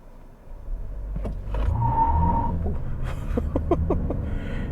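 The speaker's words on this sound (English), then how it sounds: "I'm gonna do a slight acceleration run here really quick." A 2020 Toyota Highlander Hybrid SUV pulling away in a light acceleration, a rising low engine and motor drone heard from inside the cabin with a few clicks and thumps, no voices.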